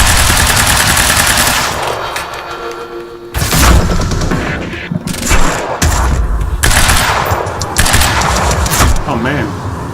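Heavy gunfire in the Quantum Break video game, with loud bursts of automatic fire and booming shots that come in waves, broken by brief lulls, while voices shout over the fighting.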